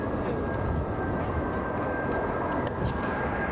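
A Brussels Airlines airliner lands at Brussels Airport: a loud, continuous broadband engine roar holds steady and close, with a faint thin whine running above it.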